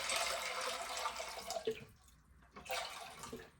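Water pours from a tap into a cooking pot for boiling macaroni with vegetables in a home kitchen, a close, steady splashing stream that breaks off briefly midway and then resumes, with no talking.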